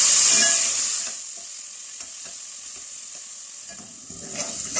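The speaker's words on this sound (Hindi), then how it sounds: "प्याज को इसमें लाइट गोल्डन होने तक फ्राई कर लेते हैं।" Finely chopped onions fry in hot oil in a pan for maash dal, giving a loud hiss at the start that settles into a softer steady sizzle with a few stirring clicks, then swells again toward the end.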